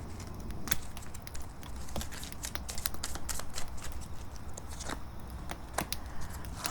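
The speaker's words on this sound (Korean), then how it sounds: "힌트 카드, 조언 카드 한번 뽑아 볼게요" Tarot cards drawn from a deck by hand, with soft slides, snaps and flicks of card stock in quick irregular bursts, close up and without talking.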